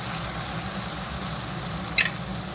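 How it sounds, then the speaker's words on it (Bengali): Tomatoes frying in a pan for rajma masala give a soft, steady sizzle, close but faint, with one brief spatter crackle midway and no voices. "টমেটোটা দিয়ে একটু ভেজে নিই"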